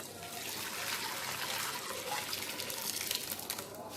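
Liquid from caramelized corn drink (asaana) being poured through a sieve, a steady, continuous splashing trickle heard close up throughout, alone with no talk.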